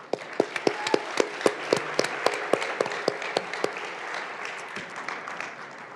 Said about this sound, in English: I'd like to give our competitors another really big round of applause.